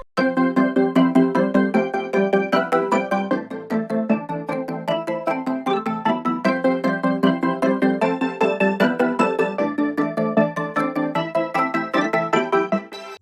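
Marimba mallet notes layered over a MIDI melody loop play a bright, rapid run of struck tones in a steady repeating pattern, loud and continuous with no voices.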